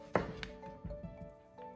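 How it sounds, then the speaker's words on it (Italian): Zucchini being sliced in a home kitchen, giving a sharp first cut followed by several softer, uneven chopping taps close by, with no talking. "Adesso continuo con il taglio fin quando non ho terminato tutte le mie zucchine."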